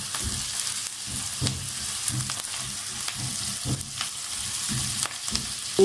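Onions sauté in a pan for an Egyptian eggah, a steady close sizzle and frying crackle with occasional stirring scrapes, no talking.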